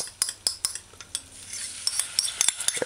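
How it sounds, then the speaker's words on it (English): Fish and broccoli stir-fried with oyster sauce in a saucepan used like a wok, with repeated scraping and clinking of a utensil against the pan over a faint sizzle. "Add it and then stir fry."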